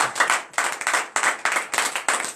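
A congregation at morning prayer claps together in acclamation, a crisp rhythmic pattern of bursts repeating roughly every half second, close and loud with no talk.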